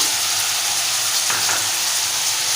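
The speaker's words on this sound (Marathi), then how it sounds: "आता आपण चिरलेल्या भाज्या घालूया इथे वांगे घेतले चिरलेली ती घालूया बटाटे शेवगाच्या शेंगा घेतल्या ते घालूया" Chopped brinjal, potatoes and drumstick pods drop into a hot oiled pan, setting off a loud, steady frying sizzle with a brief rustling burst partway through.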